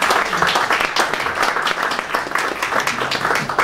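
An audience at a diaspora conference on women's and girls' rights applauds a speaker, steady dense clapping from many hands throughout, fairly close and even in loudness.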